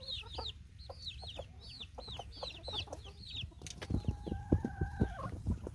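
A broody hen clucks in soft, repeated low calls while her baby chicks peep in a rapid high-pitched series nearby, then a louder burst of hen calls, all at close range on a farm.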